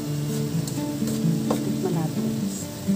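Bean sprouts stir-fried in a pan sizzle steadily while a utensil scrapes and tosses them in short strokes, close and moderately loud, with a faint voice in the background.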